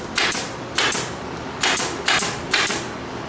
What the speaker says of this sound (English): We got Mike here, the nail gun.